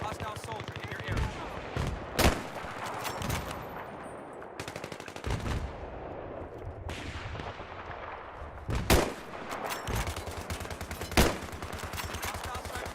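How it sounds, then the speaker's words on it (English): Sniper and automatic gunfire in the Battlefield 3 shooter crack out repeatedly in irregular sharp bursts over a dense battle din, with several loud close reports standing out. "Hostile sniper fire in your area."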